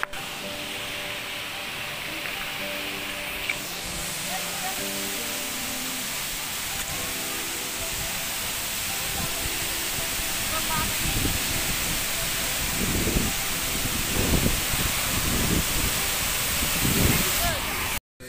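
A stream of water gushing continuously outdoors, a broad steady hiss and rush heard close up, with voices and bumps of activity breaking in toward the end.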